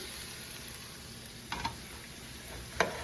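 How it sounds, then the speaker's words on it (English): Louisiana-style muddy gravy frying down in grease while stirred, a quiet steady sizzle with a few distinct spoon scrapes and clinks against the pot, no voices. "I'm going to like fry it down."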